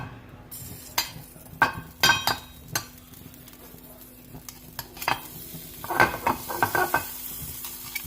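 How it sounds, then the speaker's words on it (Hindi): Butter melting in a pan with faint sizzling under repeated stirring and scraping, with several sharp clinks of a utensil against the pan and no talk. "इसको ज़रा सा मेल्ट होने देंगे, ज़रा सा।"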